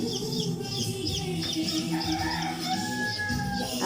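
Newly hatched native chicks call inside an egg hatcher, a continuous busy chorus of high cheeps and peeps overlapping one another over a steady mechanical hum, close and moderately loud.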